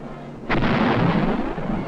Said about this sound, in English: The tanks move up to new positions nearer the ridge and continue to blast away at the communist emplacements.